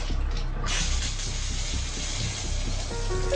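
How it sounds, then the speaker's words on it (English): Steady water runs in a shower, a dense continuous hiss that holds loud and even throughout with no voices over it. "the sound of the water running"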